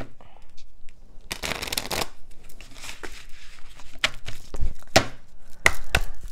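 Oracle cards being shuffled by hand, with dense riffling and flicking card noise running through, several sharper slaps and snaps, and a voice speaking intermittently underneath.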